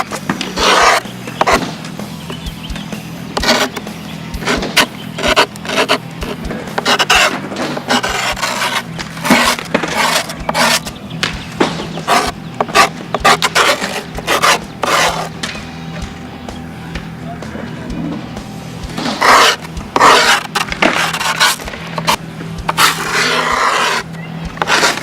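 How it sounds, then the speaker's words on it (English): A file is drawn along the edge of a skateboard deck to trim grip tape, giving repeated rasping scrape strokes in a steady back-and-forth rhythm that fills the clip, up close and loud with no talk. "grab a file or anything along those lines"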